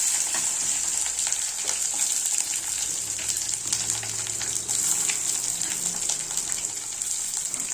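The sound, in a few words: frying mustard, curry leaves, green chilli, shallots in oil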